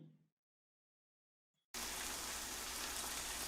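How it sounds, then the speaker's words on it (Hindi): Heavy rain in a Hindi cartoon bursts in after a brief silence, a dense, steady roar of downpour that stays loud and constant to the end. "इतनी तेज बारिश आ गई, मुझे तो बहुत दिक्कत हो जाएगी।"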